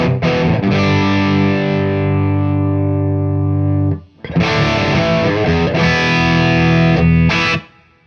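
Electric guitar played through a Pantheon overdrive pedal set to low gain, sustained chords ringing with mild crunch, a brief pause midway, then more strummed chords, loud and alone with no talking.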